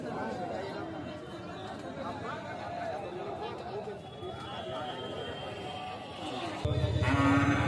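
Busy cattle market with calves, crowd chatter and talking voices throughout, with cattle lowing mixed into the bustle and a louder rush near the end.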